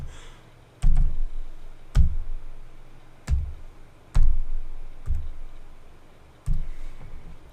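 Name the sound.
typing a CAPTCHA on a computer keyboard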